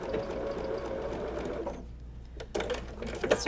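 A sewing machine backstitching fabric for a mouse pincushion, a steady close whirring run that pauses briefly, then restarts with quick stitching bursts.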